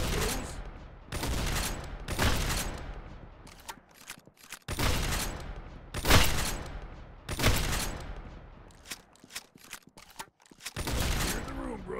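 Rapid bursts of gunfire come from the Roblox Arsenal video game, repeating in loud, close volleys with short gaps between them, while a voice talks over the shooting.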